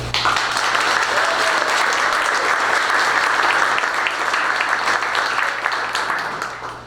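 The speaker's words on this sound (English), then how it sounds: "applause for our 13 educators in the room that we are celebrating tonight." Sustained applause from an audience at an evening event celebrating thirteen outstanding educators, a steady dense wash of clapping that holds loud throughout and tapers slightly at the end.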